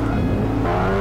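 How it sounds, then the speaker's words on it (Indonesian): A Bajaj auto-rickshaw engine in the video game GTA San Andreas drones loudly and steadily, a close, continuous rough motor hum with a slight shift in pitch partway through. "Suaranya guys, suara motornya."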